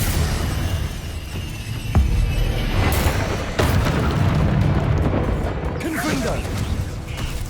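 Explosive bursts from a Bombarda blasting spell in Hogwarts Legacy, with several loud booms and crashes breaking through a dense, continuous roar of game combat effects.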